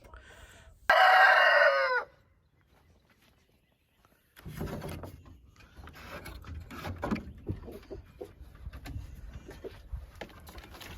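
A rooster crows loudly once, then after a short pause hens cluck and scratch about steadily nearby.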